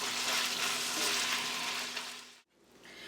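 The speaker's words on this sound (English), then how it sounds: "So let that continue frying there now" Small onion pieces fry in a pan, a soft, steady crackling sizzle with a faint hum underneath, broken by a brief gap before the sizzle resumes.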